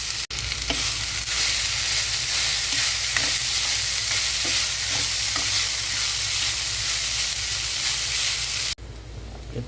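Poha stirred and fried in a pan, a dense continuous sizzle with rhythmic scraping strokes of the spoon, close and loud throughout before stopping abruptly near the end.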